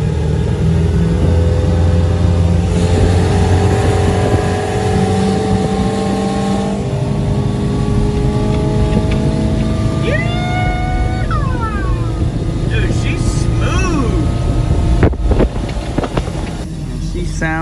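Engine of an old Bayliner boat idling smoothly: a steady low rumble with wind noise over it throughout, and a few faint higher chirps and clanks partway through.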